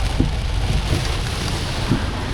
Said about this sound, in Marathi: कसला पाऊस आहे.